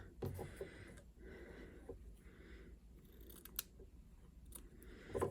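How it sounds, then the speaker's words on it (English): Scissors trimming loose embroidery threads close by, a few soft snips and fabric rustles spaced across a quiet stretch with no talk. "If there's any bits that you don't love and you want to just trim them off"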